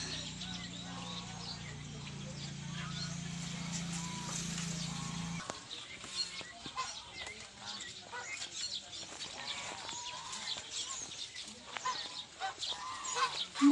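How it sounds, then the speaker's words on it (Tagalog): Geese on a farm honk repeatedly, mixed with other fowl calls, starting close and fairly loud, then turning more scattered over a steady outdoor background, with someone talking over part of it. "Ang mga laaga na gansa."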